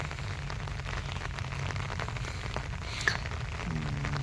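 Steady rain falling outdoors where goats are kept during days of continuous wet weather, a constant close hiss with a brief sharper patter midway and no voices.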